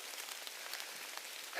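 Rain falls outdoors in a steady, dense hiss of drops hitting surfaces, with no other sounds.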